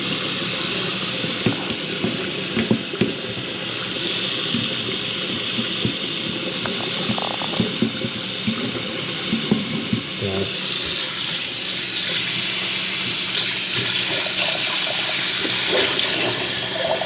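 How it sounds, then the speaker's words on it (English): Water gushing steadily from a loose faucet into a sink, a constant close rushing stream with occasional small knocks and handling noises in the background. "We'll let it run on this side now. The faucet's pretty loose."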